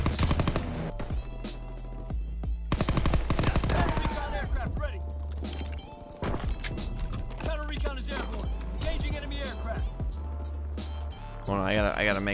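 PPSh-41 submachine gun firing in the video game Call of Duty WW2, with rapid bursts of automatic gunfire near and loud, under someone talking throughout.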